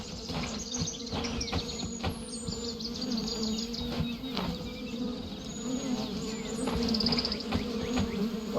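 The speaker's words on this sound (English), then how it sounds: "I hear the bees." Bees buzz steadily beside a forest path, a dense droning swarm with individual insects whining past, while faint bird calls chirp in the background.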